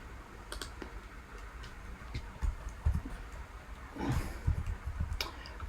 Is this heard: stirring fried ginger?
no